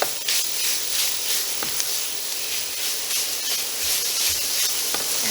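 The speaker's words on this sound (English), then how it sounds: "all we want to do is brown our sausage and get it nice and cooked through" Sausage crumbles browning in a hot pan give off a steady, close sizzle and hiss, with faint scrapes and clicks as the meat is stirred.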